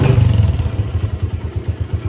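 A 125 motorcycle engine catches after a kick start and settles into a loud, close, rapid thumping beat, with some clattering and a faint high whine on top.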